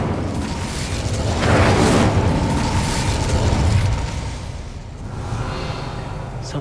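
Incendio fire spell cast in Hogwarts Legacy on a PS5, a loud whooshing burst of flame that swells and roars for a few seconds over a constant background rumble, then fades.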